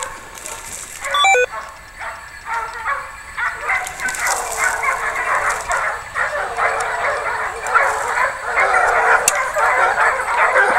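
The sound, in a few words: hunting dogs baying while chasing a wild boar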